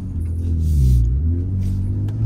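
A 2023 Ford Raptor truck drives off-road on dirt, its engine a deep, close rumble that swells briefly as it pulls, with faint gravel crunch over the steady low drone.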